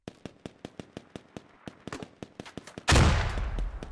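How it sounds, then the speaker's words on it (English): Grenades bursting in the tactical shooter Squad: a rapid, even series of sharp cracks like distant gunfire builds up, then one loud, close explosion booms and rumbles out. "Grenades going off in both directions."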